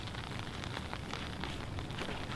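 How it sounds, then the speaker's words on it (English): Rain beginning to fall on a golf course during a state championship round, a steady broadband hiss of drops on grass and surfaces, fairly close and continuous, with no voices. "You can definitely see the rain starting to come down"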